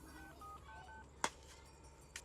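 Telephone keypad dialing plays as a quick run of short, faint beeps, followed by a sharp click and a softer click, quiet against a low background hiss.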